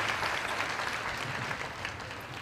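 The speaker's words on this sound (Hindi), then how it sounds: "आइए प्रभु के लिए जोर से ताली बजाएं।" A congregation at a Christian prayer meeting claps loudly and continuously, a thick steady roar of many hands with no break.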